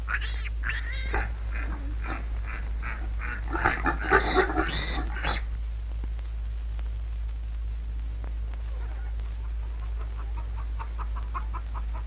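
Pigs at a scientifically run pig breeding farm in Shillong, heard as a run of grunts and squeals in the first few seconds, then quieter snorts over a steady low hum.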